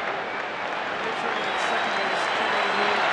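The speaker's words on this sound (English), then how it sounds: "Mark Loretta gets a round of applause and from his teammates as he comes back to the dugout" Spectators at a Colorado at Atlanta baseball game applaud as Mark Loretta returns to the dugout, a steady wash of crowd clapping at moderate distance under a commentator's voice.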